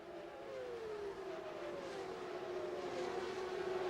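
A CART Indy race car's V8 engine roars past during the 1998 Japan 500, with a steady, rising-then-falling pitch, loud and continuous over a broad rumbling background.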